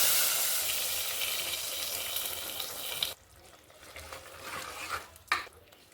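Mustard seeds, urad dal, red chillies and curry leaves sizzle in hot oil for a snake gourd kootu. A loud, close hiss runs for about three seconds, then drops to a softer crackle with a few stirring knocks.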